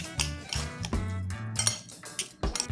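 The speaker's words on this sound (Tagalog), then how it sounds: "Haluin na naman natin." A spoon stirs magic syrup into a papaya ball mixture in a bowl, giving repeated close clinks and scrapes in an uneven rhythm, with no talking.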